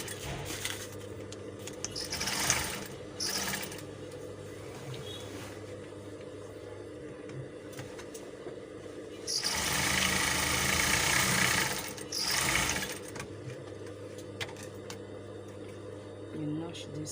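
A sewing machine stitches gown pieces together in short bursts, a whirring run near the start and a louder, longer one midway, with a low background hum and quiet stretches between.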